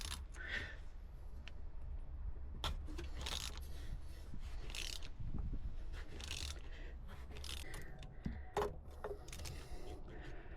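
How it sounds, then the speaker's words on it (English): An E10 inverted socket turns the bolts on the oil filter cover of a Sea-Doo watercraft, giving faint, irregular scraping and ratcheting clicks over a steady low hum, fairly quiet and without speech. "you'll use your E10 inverted socket to remove the cover right here"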